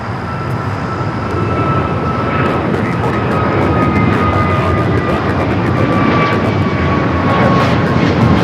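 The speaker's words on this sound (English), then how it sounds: "Next takeoff here on the south side is American Airlines Flight 1221 heading to Miami, Florida. It's an A321neo." An American Airlines A321neo bound for Miami takes off from the south side at LAX, a loud sustained jet roar with a whining engine tone that slowly shifts, continuous and close, with no talk over it.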